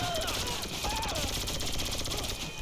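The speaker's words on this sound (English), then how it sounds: "I shot him in the back of the head" Rapid gunfire from a Grand Theft Auto video game, a dense run of sharp shots repeating through a busy game soundscape, loud and close, with faint voices mixed in.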